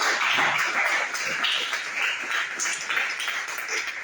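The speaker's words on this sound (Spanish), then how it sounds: "Den un fuerte aplauso a nuestro Señor Jesús." A church congregation applauds in a steady, fairly distant wash of clapping that runs the full length without a break.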